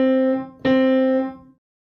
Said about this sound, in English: It has 4 middle C's, and all of them are quarter notes.